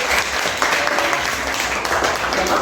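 A classroom of students claps together in a dense, steady burst of applause, close and fairly loud, with a little speech faintly mixed in.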